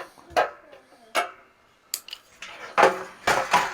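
Metallic clinks and rattles from removing screws from an old heater with a stripped screwdriver, a handful of sharp scattered knocks with quiet gaps between them.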